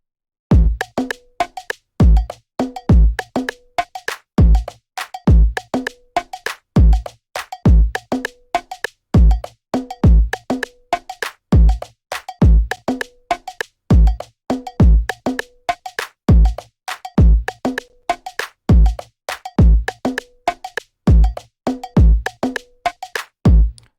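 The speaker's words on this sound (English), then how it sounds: "for this particular video, I started off with my drums, and here's what the drums sound like" A programmed Afrobeat drum pattern made in FL Studio loops steadily, with crisp, evenly spaced percussive hits and a bright cowbell-like accent in a repeating groove, played alone with no voices.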